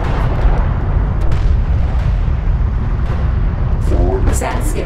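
Railgun rounds slam into targets during a desert battle in Homeworld: Deserts of Kharak, heavy rumbling explosions booming continuously over a loud battle din, with a higher crackling burst near the end.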